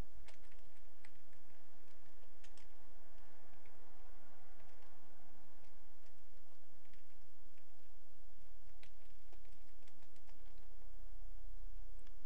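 Fingers type steadily on a computer keyboard into a text document, producing a continuous patter of close, crisp key clicks with a faint background hum and no voices.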